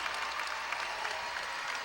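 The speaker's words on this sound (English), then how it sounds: "As the crowd tells you what happened here a couple of seconds ago." A basketball crowd at an NBL Canada game between the Halifax Hurricanes and Island Storm cheers and applauds loudly and steadily, a dense, continuous roar of clapping that fills the arena.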